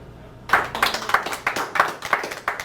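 A comedy show audience starts clapping abruptly after a short pause, a small group of hands clapping in a quick uneven rhythm, near and fairly loud.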